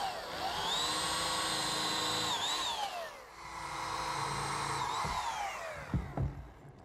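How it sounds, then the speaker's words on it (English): A power drill whines up in two long bursts, pitch shifting as it pre-drills screw holes in wood for a picnic table, followed by a few short clicks and taps close by. "Now pre-drill for some screws."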